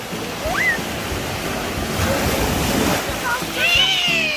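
Rushing surf and heavy waves breaking nearby, with wind buffeting the microphone and a voice calling out over the roar.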